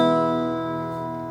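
A single strummed acoustic guitar chord, played after a correctly sized nut replaced one causing buzzing, rings out and sustains, slowly decaying with clear, bright harmonics.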